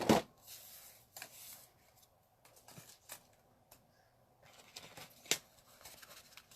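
Handmade paper greeting cards are gathered up from a cluttered crafting table, giving sparse, soft slides, flicks and rustles with brief sharp taps between quiet pauses, close by and without speech.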